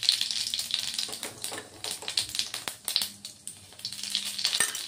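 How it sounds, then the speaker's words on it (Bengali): Cumin seeds tempering in a small amount of hot oil for a vegetarian potato and drumstick curry, a close, continuous crackling sizzle with sharp pops and spattering bursts throughout. "আমি জিরে ফোড়ন দিয়ে দিচ্ছি"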